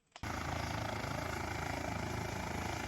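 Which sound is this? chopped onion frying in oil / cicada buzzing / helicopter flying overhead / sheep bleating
helicopter flying overhead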